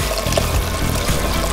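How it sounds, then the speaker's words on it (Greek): About one and a half litres of water rushes steadily into a cooking pot of vegetables for soup, a close, full pouring sound heard on its own. "Ρίχνω μέσα το νερό,"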